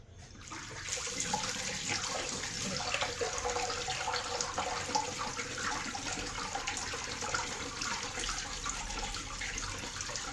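A glass jar is rinsed under a running kitchen tap, giving a steady, close hiss of flowing water and splashing that continues unbroken for the whole stretch.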